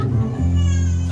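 A performer at an improv theatre show imitates cats meowing, a loud, close, drawn-out vocal meow lasting about a second.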